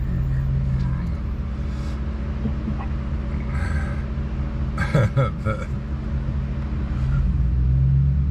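A car pulls into a parking lot in Quartzsite, a steady low engine rumble swelling near the end, with a few brief higher clatters midway.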